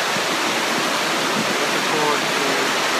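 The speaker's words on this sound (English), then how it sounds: "The waterfall is behind me." Roar of Amicalola Falls, a 729-foot waterfall in a Georgia state park, a steady broadband rush of falling water heard continuously from a moderate distance.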